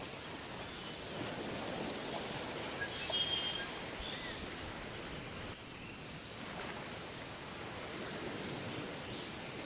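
Steady rushing water from a stream in the Arcfall game, a continuous broadband hiss that holds evenly throughout with a brief dip midway, no voices present.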